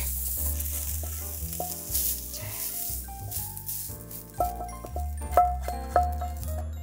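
Red chili pepper is stir-fried briefly in a pan as a garnish for a Korean dish, giving a steady soft sizzle under repeated clinks and scrapes of a spatula against the pan. No one speaks.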